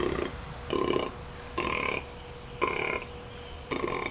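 A deer call imitated by a person's mouth alone, with no call device: five breathy, grunting vocal bursts in an even rhythm, close and moderately loud, with short gaps of quiet between them.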